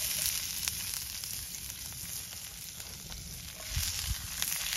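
Onions and carrot sizzle in olive oil in a pan, a steady, fairly quiet frying hiss with small crackles throughout, no voices.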